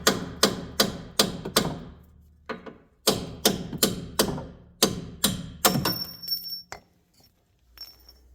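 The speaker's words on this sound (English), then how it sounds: "Take a brass hammer, tap these out." Sharp metallic taps from a brass hammer striking splined parts on a Chevy Impala's rear struts and front wheel bearings, struck in quick bursts of several blows with brief pauses, ringing briefly after each hit.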